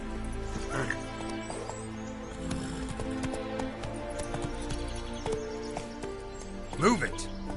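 Roach the horse gallops in The Witcher 3, its hoofbeats clopping in a steady rhythm under someone talking, with a whinny rising near the end.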